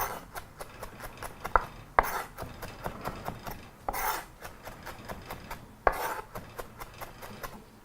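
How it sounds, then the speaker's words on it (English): Sharp knife chopping ginger on a board for a Malabari prawn curry: quick, steady close-up knocks, about three a second, with a few louder strikes and no talking. "proceed to go over your ginger with a sharp knife until you've got some nice,"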